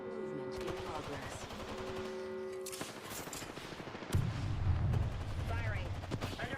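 Video game gunfire with rapid bursts and shots under a dense layer of in-game sound and announcer voice lines, swelling into heavier low booms near the end.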